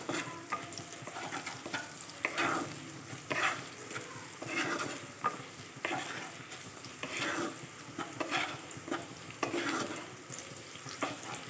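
Leafy greens fry in a hot pan with a soft, continuous sizzle while a spoon scrapes and stirs them in repeated sweeps, fairly quiet and close with no talking.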